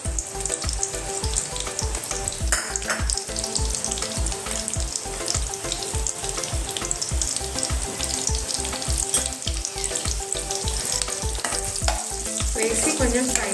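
Chopped onions and green chillies frying in hot oil for a capsicum chicken curry, a continuous close sizzle under rapid, regular stirring strokes keeping a steady rhythm, loud and alone without any talk.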